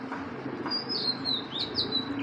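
Female Giribaz pigeons calling indoors in a loft, with soft chirps and coos over a steady low room hum, a few brief higher calls rising in the middle and near the end, close and moderate in level.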